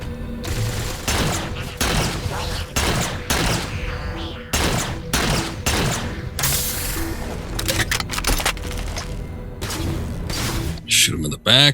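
Heavy bursts of gunfire in the Halo 4 video game come in repeated loud volleys with short gaps, mixed with mechanical clanks and game effects, close and dense throughout.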